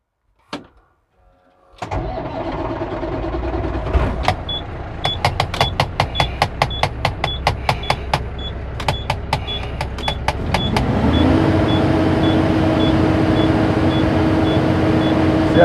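A 2007 International 9400 truck with a Cummins ISX engine cranks in a long run of rapid clicking pulses, then catches and settles into a loud, steady diesel idle close by.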